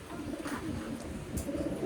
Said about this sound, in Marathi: माझं फेवरेट कबूतर कुठं तो बघा वरती